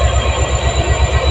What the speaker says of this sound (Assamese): এইটো ট্ৰেইনখন।